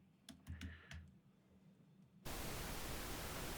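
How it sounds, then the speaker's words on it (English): Soft pink noise from a synthesizer comes in suddenly as a steady, dense hiss, preceded by a few quiet keyboard taps and clicks. "You can hear that quality of pink noise."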